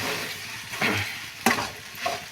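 Sago (sabudana khichdi) is stirred in a hot pan, with a steady sizzle under a few scraping strokes of a spoon against the metal, close and continuous with no voices.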